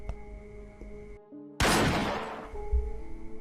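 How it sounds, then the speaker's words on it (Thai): A sudden, loud broadband blast from a revolver in a game of Russian roulette cuts through a quiet, tonal background and decays over about a second, like a single close gunshot. "เสียงปืนดังจนนิ้งหูดับ"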